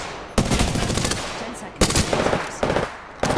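Rapid automatic gunfire in the battle royale shooter Apex Legends, loud close bursts separated by brief pauses, with a player's voice faintly underneath.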